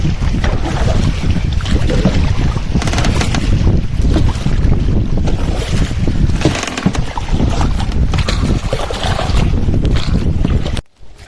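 A boat moves steadily from a large river into a creek in the Sundarbans, with heavy wind buffeting the microphone and broad rumbling water noise throughout, ending abruptly.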